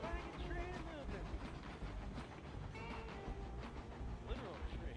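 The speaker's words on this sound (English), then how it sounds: "Wagon train moving." Continuous rumbling train noise from the video game Railroads Online, with clanks and metallic squeals, steady and fairly loud, with a voice talking over it.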